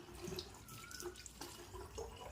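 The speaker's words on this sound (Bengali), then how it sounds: "সেই জন্য পাইপটা নিয়ে এসে জলটা ভরে দিচ্ছি" Water pours from a pipe into bottles, a faint splashing trickle with small gurgles and drips, close by and with no talking.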